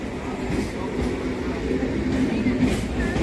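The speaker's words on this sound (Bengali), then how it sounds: "বনগাঁ মাঝেরহাট লোকাল ঢুকছে।" Low rumble of a Bangaon–Majerhat local train rolling into a station, steady and fairly close, with faint metallic squeals and muffled voices in the background.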